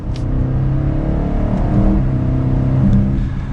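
BMW X5 M50i large SUV in Sport Plus mode, its engine revving steadily through a paddle-shift downshift to third gear, a loud continuous drone with pitch shifts at each gearchange, heard from inside the cabin.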